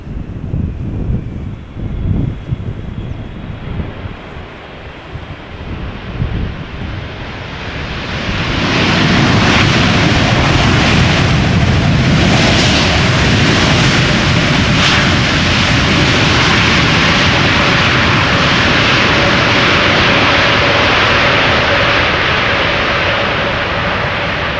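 A Boeing 747 jumbo jet airliner at Schiphol Airport swells from distant rumble into a loud, sustained roar of engines that fills the last two-thirds, with wind buffeting the microphone.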